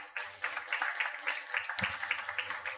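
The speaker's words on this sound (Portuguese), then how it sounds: "para que eu peço uma salva de palmas" A conference audience at a Brazilian event on organized crime and taxation gives polite applause, a soft, steady rustle of many hands heard from a distance and briefly swelling.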